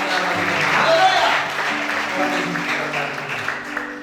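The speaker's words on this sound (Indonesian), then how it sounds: "Mereka tepuk tangan yang paling menyenangkan." A church congregation claps together in a dense, sustained burst of applause that fills the room evenly, with a faint hum beneath and no clear speech over it.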